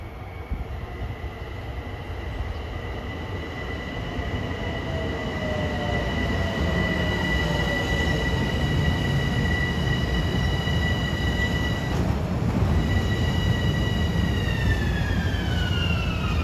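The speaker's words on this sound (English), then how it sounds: "A westbound mainline train stopping at Floral Park." A westbound Long Island Rail Road mainline train, train 1561 from Huntington to Penn Station, rolls into Floral Park station with a steady loud rumble and high squealing wheel tones that glide and shift as it slows, with no talk.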